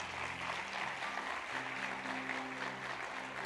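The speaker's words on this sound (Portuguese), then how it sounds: "Dê um aplauso a Jesus Cristo" Church congregation applauding together, a steady wash of clapping that fills the space, moderately distant, with a low sustained musical tone beneath it.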